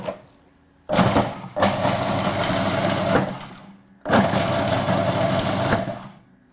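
A food processor pulses to chop pistachios, two loud bursts of whirring blades with brief rattling of nuts, each lasting a few seconds and separated by short pauses, close up.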